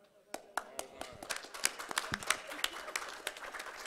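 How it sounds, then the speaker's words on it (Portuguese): Scattered applause during a plenary council meeting after a unanimous vote, honoring a team for its work: a few distinct, sharp claps that thicken into a loose patter, fairly faint and roomy, with speech around them. "palmas para a equipe do Anderson, para os colegas que trabalharam nessa tarefa"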